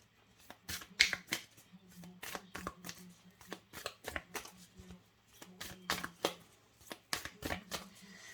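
Moonology oracle cards being shuffled and drawn during a tarot reading, giving a rapid run of crisp riffling flicks and taps in short bursts, close and fairly quiet, with no talking.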